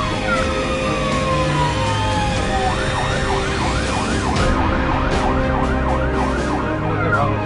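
An ambulance siren wails in rapid rising-and-falling cycles over steady traffic noise in India, fairly close and loud, with a mix of other road sounds.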